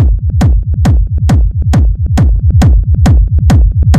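Thumping four-on-the-floor techno kick with a bass line filling the gaps, run through a saturator, sounding denser and more driven than a clean mix, loud and steady.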